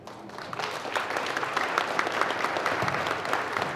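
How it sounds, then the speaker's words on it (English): A lecture audience claps together in a dense, steady roar of many hands, building slightly after the first second and holding loud and even with no voices on top. "Y'all gotta clap louder than that"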